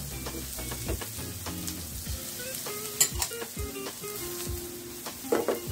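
Onion and ginger sauté in a hot pan, a close continuous sizzle with occasional scrapes and light clinks of a utensil against the pan, no voices over it.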